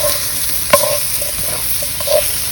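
Onions and vegetables softening in a Dutch oven over a very hot campfire, a steady close sizzle with occasional stirring scrapes and small pops, no talking.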